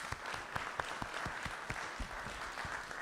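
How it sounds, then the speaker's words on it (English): An audience at a council meeting claps in a steady, moderately distant round of applause, sharp individual claps scattered through a dense patter. "Round of applause, please"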